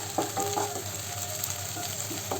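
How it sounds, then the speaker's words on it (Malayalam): Shallots and curry leaves frying in coconut oil get stirred in a pan, a soft steady sizzle under a few light spatula scrapes and taps near the start and end. "ഒന്ന് ഇളക്കി കൊടുക്കാം"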